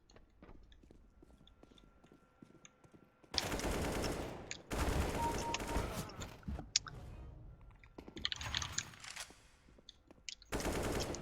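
Automatic gunfire in a shooting video game during recoil control practice comes in several sustained loud bursts separated by quieter gaps, the last burst cut off at the end.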